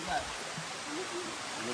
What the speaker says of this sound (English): This is the sick ass waterfall here.